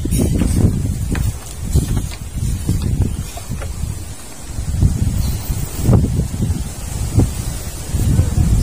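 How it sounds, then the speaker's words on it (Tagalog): Strong gusty wind on the way to a salt farm pounds the microphone in loud, uneven bursts, with faint rustling underneath and no speech. "So malakas ang hangin."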